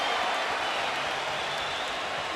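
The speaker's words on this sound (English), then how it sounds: "Crowd on its feet." Boxing arena crowd at a Cotto versus Mosley fight cheering on its feet, a broad, loud roar of voices and applause filling the short stretch without pause.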